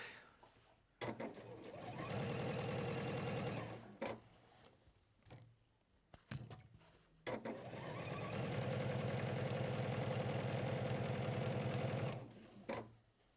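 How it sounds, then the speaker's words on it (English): A sewing machine stitches fabric in two long bursts of fast, steady mechanical whirring, close and loud, separated by short pauses with small clicks and handling sounds. "So we'll just sew down, again going over the first line of stitching which marks out where the corners are."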